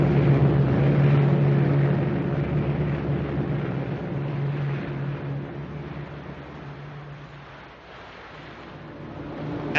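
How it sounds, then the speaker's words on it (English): Drone of WWII enemy aircraft approaching in a 1944 naval war film, a steady low engine hum with broad rumbling noise that swells and fades slightly, heard without talk. "Enemy planes approaching."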